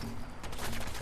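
Enemy gunfire in Fallout 4, a rapid, harsh burst of shots filling the whole short moment, loud and continuous with no talking.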